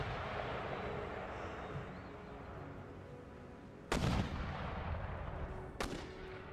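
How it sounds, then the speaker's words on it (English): Artillery in Empire Total War firing on a unit of mortars: a steady battle rumble underneath, broken by two sharp, loud cannon reports a couple of seconds apart. "All my artillery is going to smash their unit of mortars."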